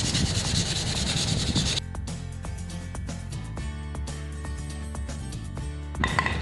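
Sandpaper rubs wood at the sound hole of a ukulele, a loud raspy scrubbing at first, then quieter scraping strokes before the rubbing picks up again at the end.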